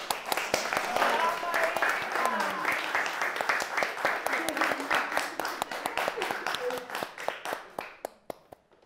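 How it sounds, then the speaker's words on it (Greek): Audience applause at a gathering, a dense run of clapping that holds steady for several seconds and then thins into scattered separate claps before fading, with voices murmuring underneath. "Χειροκρότημα, παρακαλώ."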